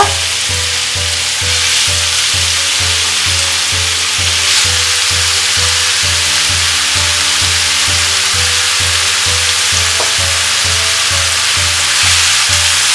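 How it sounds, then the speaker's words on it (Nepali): About 200 grams of western mushrooms fry in hot oil for Nepali mushroom choila, giving a loud, steady, close sizzle. A rhythmic low thumping pulses underneath throughout, with no talking. "अब मशरुमलाई चाहिँ हल्का रातो रातो हुने बेलासम्म फ्राई गर्नुपर्छ"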